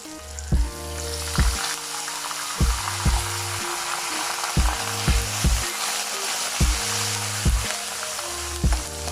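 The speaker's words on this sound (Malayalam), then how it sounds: "ഇനി നമുക്കിത് വറുത്ത് കോരാം" Jackfruit chips deep-frying in hot oil in a home kitchen: a steady bubbling sizzle runs throughout, broken by regular, fairly loud knocks and scrapes from stirring, with no voices.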